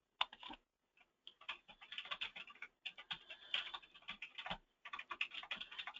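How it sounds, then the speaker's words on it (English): Fingers tap out a message on a computer keyboard in quick, uneven bursts of close, crisp clicks separated by short pauses, with no talking. "And you can type your message in"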